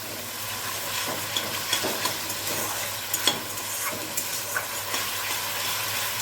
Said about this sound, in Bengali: পেঁয়াজটা আমার প্রায় ভালো করে তেলের মধ্যে ভাজা হয়ে গেছে